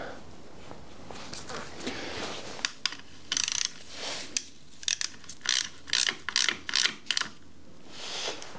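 An oil drain plug on a Husqvarna 701 motorcycle being tightened with a ratchet, heard as short bursts of clicking pawl strokes with brief pauses between them, close and fairly quiet.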